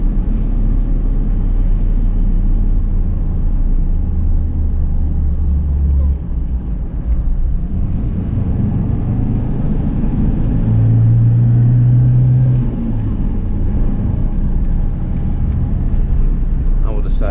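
A Volvo 242 GT engine pulls steadily up a steep grade in third gear at around 3000 rpm, a loud continuous drone and rumble heard from inside the car, with someone talking over it.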